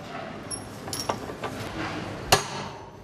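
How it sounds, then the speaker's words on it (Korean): A hammer strikes misaligned steel plates to drive bolts home while a heavy steel frame is assembled high in the air. A few sharp metallic blows ring out, two of them standing out louder, over a murky background of site noise. "두 개의 판이 어긋나서 볼트가 잘 들어가지 않을 경우에는 망치로 힘껏 쳐줘야 한다"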